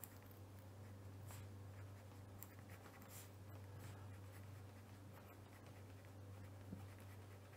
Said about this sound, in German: ich schreibe jetzt da rot